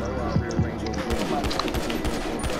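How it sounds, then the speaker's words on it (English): Gunfire in the GTA 5 video game: rapid, close bursts of shots over a steady game hum, with players talking over the action. "You're shooting through the wall."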